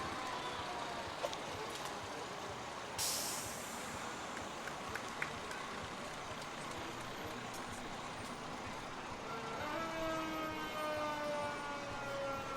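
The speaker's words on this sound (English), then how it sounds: "It's always fun to see the fire engines at parade." Fire engines at a town fiesta day parade, a siren rising and sounding over steady street and engine noise, with a sharp burst near the start and a wailing siren tone building toward the end.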